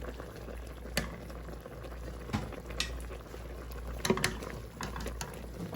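A pot of white kabsa bubbles at a steady boil on the stove, giving a continuous soft gurgling hiss with occasional louder pops and spoon clinks, close by and with no talking.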